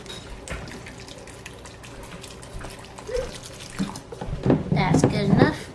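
Chicken broth from an opened carton poured into a pot for a spicy vegan chili, a steady liquid splash and gurgle that grows louder and fuller toward the end.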